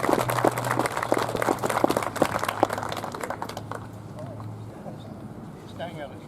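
Applause and clapping ring out from the audience at a Veterans Day ceremony, loud and steady at first, then tapering off, with a voice speaking over it.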